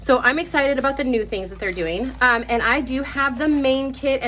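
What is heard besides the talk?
No everyday noise stands out behind the speech.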